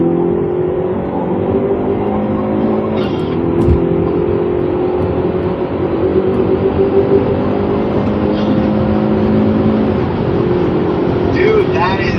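A tuned 2022 Subaru WRX six-speed and a stock 2022 Elantra N DCT accelerate side by side in a roll race, a loud sustained engine drone with rising revs and shift changes heard from inside a car, with people talking over it.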